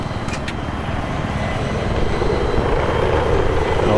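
A helicopter in the Battlefield 3 video game, heard during a Conquest match as a loud, close, continuous rotor thump and engine roar that grows slightly stronger over the seconds.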